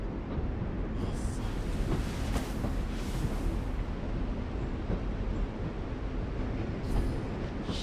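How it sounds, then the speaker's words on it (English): A train rolls along in The Walking Dead game, a dense, steady rumble with a low roar and faint rattling that persists throughout without speech. "Why the train? You always pick the train."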